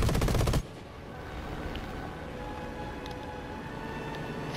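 War Thunder aerial combat, an aircraft machine gun firing a loud dense burst for about half a second, cut off sharply, leaving a steady engine drone and faint distant bursts.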